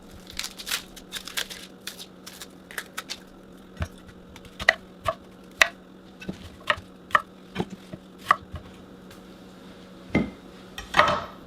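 A knife cuts an onion into quarters on a board with a string of crisp, irregular taps and clicks, followed by pieces landing in a pan with peppers; no talking.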